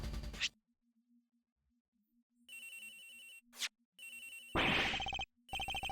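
Repeated electronic phone ringtone in the Ace Attorney Investigations video game, sounding in several bursts with short gaps against a low background tone, fairly clear and near.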